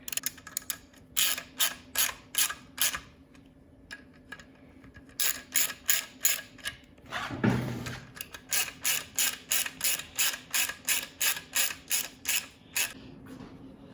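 Rapid ratchet clicks while a fuel pump assembly is bolted back into a 1990 Kawasaki ZXR750 under restoration, coming in repeated bursts of steady strokes with a brief heavier clunk midway, close and clear with no talking.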